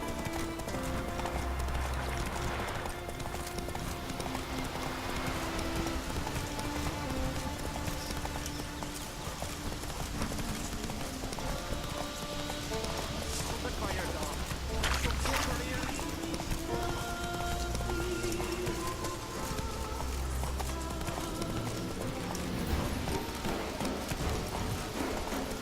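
Roach the horse gallops in The Witcher 3, a steady, rhythmic clip-clop of hooves running throughout, with game music and voices talking over it.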